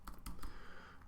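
Several quick, close computer-keyboard keystrokes as Python Tkinter and SQL code is entered, sharp separate clicks over a steady low room hum, with no talking.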